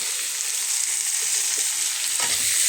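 Onions, chillies and eggs frying in spiced oil for egg rice while being stirred, a loud continuous hissing sizzle with a scrape of the spatula near the end.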